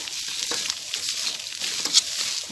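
Spicy field rat stir-fried in an aluminium wok sizzles loudly and continuously, with stirring and scraping throughout.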